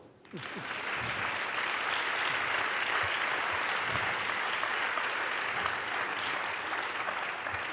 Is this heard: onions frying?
no